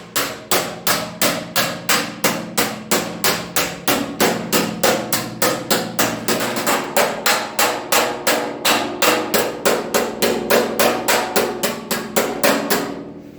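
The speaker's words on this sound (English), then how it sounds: "I'm going to set this up on my I-beam and bend over these flanges" Sheet metal trunk floor flanges being bent over an I-beam with a hammer, struck in a fast, steady series of sharp ringing blows, several dozen in a row with no pauses, close and loud.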